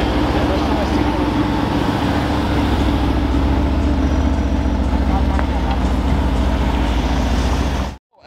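A Ferrari F8 Spider passes close by with a loud, steady engine roar over constant road and traffic noise, holding strong for about eight seconds before cutting off abruptly.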